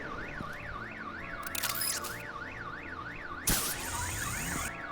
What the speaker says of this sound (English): I feel like the car alarm's the better bet.